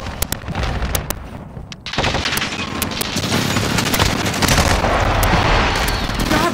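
Precision airstrike explosions tear through a video game battle, a dense, loud barrage of blasts and gunfire that swells after a brief lull and keeps rumbling continuously to the end.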